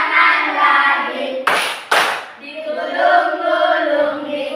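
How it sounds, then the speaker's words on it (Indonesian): Two sharp hand claps ring out in the middle of a children's clapping song sung in Indonesian, with singing and voices continuing before and after the claps. "Tepuk tangan lagi."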